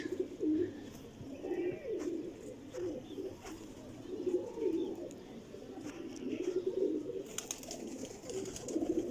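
Teddy pigeons coo continuously nearby, soft rolling warbles overlapping in a steady chorus, with a few faint chirps and clicks.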